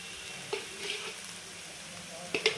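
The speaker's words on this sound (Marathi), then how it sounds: "आणि छान मिक्स करून घ्यायचं गॅस एकदम स्लो ठेवायचा आहे" Spiced potato filling for Maharashtrian aloo parathas is stirred in a pan over a very low flame, giving a soft continuous sizzle with occasional light scrapes and taps of the spoon, fairly quiet and close.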